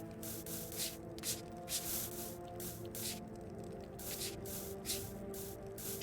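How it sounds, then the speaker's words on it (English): Spray cleaning a large gun in the VR game Into The Radius: repeated short bursts of aerosol spray hiss in a steady rhythm over a low background hum, close and fairly quiet. "She's a very big gun, so she's got a lot of coverage here to spray down and get super polished and clean."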